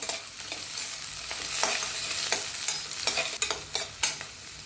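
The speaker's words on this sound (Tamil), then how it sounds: "வேர்க்கடலை சேர்த்து 1 நிமிஷம் நல்லா ஃப்ரை பண்ணதுக்கப்புறமா" Green peanuts and onion fry in a pan for a vegetarian lunch dish, a steady soft sizzle under repeated scraping strokes of the spatula that come in clusters toward the end, close and without talk.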